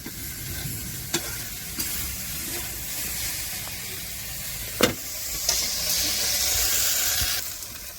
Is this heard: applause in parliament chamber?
no